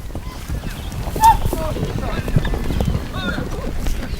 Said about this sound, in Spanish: los jinetes van agrupando a los caballos intentando que los potros sin domar queden aprisionados en el centro